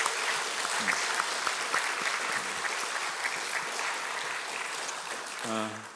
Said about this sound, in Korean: 우리 뜨거운 응원의 또 격려의 박수 한번 부탁드리겠습니다